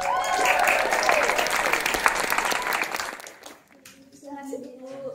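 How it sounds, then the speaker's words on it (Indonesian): Steady, dense applause from a small group fills an Indonesian podcast studio for about three seconds, then tapers off and gives way to a person speaking. "Boleh tepuk tangan."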